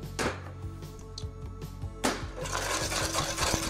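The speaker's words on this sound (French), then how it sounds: "nous allons ajouter les cristaux de soude à la phase 1 et nous allons bien mélanger" Soda crystals are stirred into a homemade laundry detergent mixture, a close scraping, rasping stir against the container with irregular rubbing strokes that grow busier toward the end.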